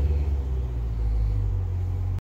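A 2020 Dodge Challenger Scat Pack Widebody idles with a deep, steady exhaust rumble, loud and close, ending abruptly.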